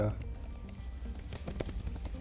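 Computer keyboard keys are tapped in quick irregular bursts while text is entered in the Vim editor, soft and close, with someone talking over the typing.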